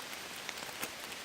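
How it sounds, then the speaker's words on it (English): Steady rain patters on a tarp over a campsite on a mid-August camping trip in the Manitou area, a close, even hiss broken by a few louder drips, with no voices. "and it is raining."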